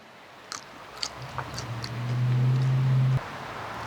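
Someone chews crunchy Cajun-spiced smoked chicken thigh skin, giving a few faint, close, crisp bites before a low steady hum swells and then cuts off.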